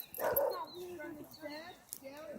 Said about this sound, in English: And the dogs run out.